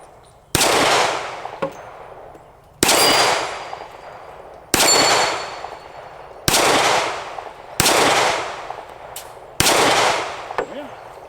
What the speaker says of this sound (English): let's just start over here, do a little bit of shooting, have a little fun. Big old 45.